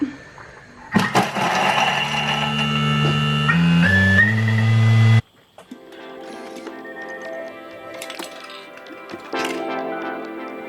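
A blender whirs loudly up close for several seconds, its motor pitch shifting as it chops, then cuts off, leaving faint clattering.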